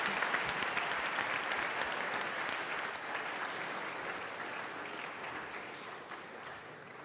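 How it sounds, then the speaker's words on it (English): Audience applause from a seated lecture crowd, dense steady clapping heard from a distance that slowly fades slightly over several seconds. "let us give a rousing round of applause to Ibrahim Mahama."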